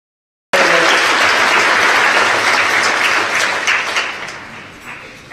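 Sustained applause from a large audience at a mayor's State of the City address, starting abruptly and holding loud and steady before slowly tapering off.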